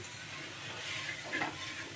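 Pumpkin, potato, chillies and eggplant fry in a pan with a quiet, steady sizzle and a faint stir near the end, heard alone and close.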